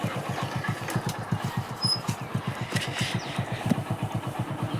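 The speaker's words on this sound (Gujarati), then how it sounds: "તો આવી ગઈ બાઇક." A motorcycle engine thumps nearby in fast, even pulses, a steady mid-loud putter that holds throughout.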